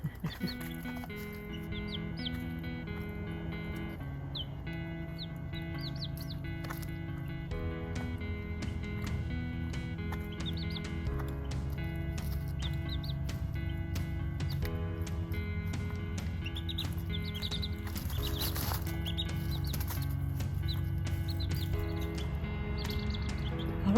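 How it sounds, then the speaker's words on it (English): Baby chicks in a brooder box cluck and chirp, with steady scratching and pecking rustle running continuously throughout at close range, no talking. "Parkour Chick loves to scratch and peck. And the others do too"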